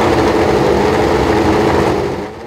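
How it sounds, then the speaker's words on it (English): Leyton House CG901B Formula One race car engine running steadily at a fast idle, a dense continuous mechanical drone with a buzzing high edge, close and loud throughout, easing off slightly at the very end. "With the fuel pumps and ignition now switched on, the engine is brought to life."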